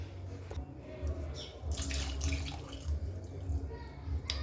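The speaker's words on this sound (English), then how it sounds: "So I'm going to put in some more water." Water pours steadily into a cooking pot on a gas stove, a continuous close splashing rush that runs for several seconds while a person moves nearby.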